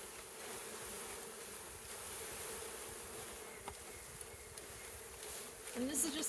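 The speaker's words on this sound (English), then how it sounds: "Shake the bees in." Honeybees being shaken from a package into a hive during an outdoor installation in Marquette County, Wisconsin, a steady faint buzzing hum that swells briefly near the end.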